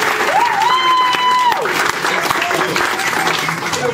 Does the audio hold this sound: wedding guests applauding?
yes